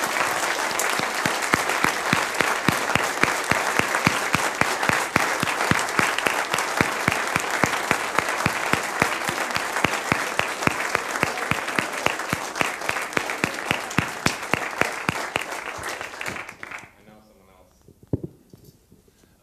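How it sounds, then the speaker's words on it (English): Sustained audience applause at a closing ceremony honoring an admin team, with dense, loud clapping that gradually thins and then breaks off into a few scattered late claps near the end. "and another round of applause"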